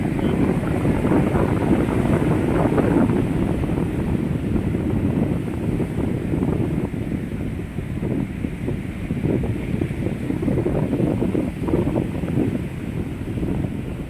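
Seaside wind roars steadily against the microphone while waves wash in underneath, a loud continuous rush with no voices, on a sunny day by clear water.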